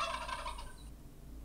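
A turkey gobbles in a quick rattling burst lasting under a second, then stops, leaving only a faint low background hum.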